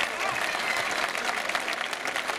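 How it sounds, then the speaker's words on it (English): A crowd at a gathering of former Coventry City footballers applauds a players' association president, with dense, continuous clapping filling the whole moment at a steady, fairly loud level. "I want everybody to give a round of applause."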